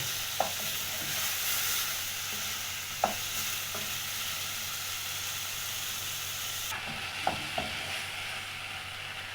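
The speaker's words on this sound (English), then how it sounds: "So you need to let your tomatoes cook" Tomatoes cook in a pot for a beef stew with peanut butter, giving a steady soft sizzle and hiss throughout, broken by a few faint clicks and taps of stirring.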